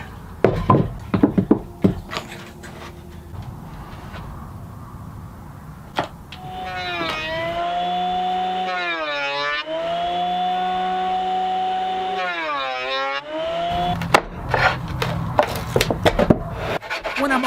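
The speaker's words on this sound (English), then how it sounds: "which now I should be able to use my drum sander" Drum sander flattening a warped wood board: a motor whines up and holds a steady hum, with rising and falling pitch sweeps as the board feeds through twice, plus knocks and handling clatter before and after.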